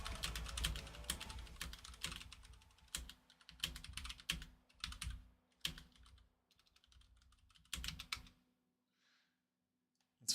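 Rapid clattering bursts of typing on a computer keyboard, close and fairly quiet, in uneven rhythmic runs with short pauses between phrases, trailing off into silence.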